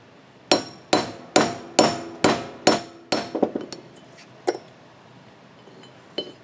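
A hammer drives a trailer wheel bearing race into place using the old bearing and a big socket, about seven sharp, evenly spaced metallic strikes followed by a few lighter, irregular taps, close and clear.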